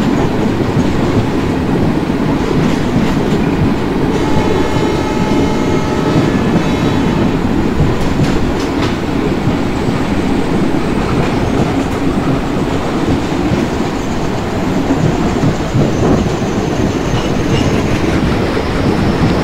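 Simulated Indian Railways passenger train on the Bhusaval–Katni route in MSTS Open Rails, rumbling steadily and loudly with rhythmic clickety-clack of wheels over rail joints throughout, no voices.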